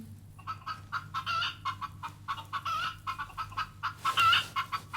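A hen clucks in a rapid series of short, close clucks, with a louder, more excited burst near the end.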